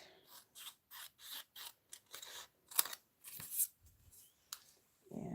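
Scissors trimming material in a studio, a run of about ten quick, crisp snipping cuts in a steady rhythm, close and quiet, followed by a few softer rustling handling sounds.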